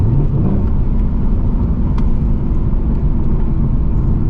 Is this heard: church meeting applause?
no